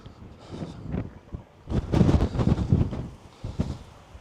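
Strong wind buffets a handheld microphone on a cliff edge at Filey, a loud, gusting roar that swells and drops in uneven bursts, heaviest in the middle, with no talking.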